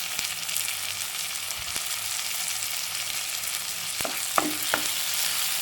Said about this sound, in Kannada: ಟೊಮೆಟೊ ಸಾಫ್ಟ್ ಆಗುವ ತನಕ ಫ್ರೈ ಮಾಡುವ.